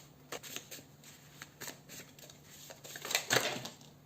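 Tarot cards are shuffled softly in short riffling bursts, a quick flurry building near the end, close and quiet in an otherwise still room.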